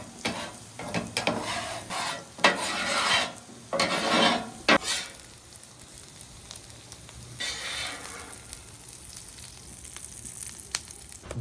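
Chopped bacon and onions cooking slowly in a pan on low heat, with soft sizzling and repeated scraping stirs of a utensil against the pan, in bursts early on and quieter later.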